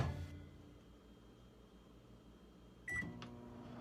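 A microwave oven hums steadily while heating an egg in a bowl, a low, quiet drone that ends with a sharp click and a brief beep.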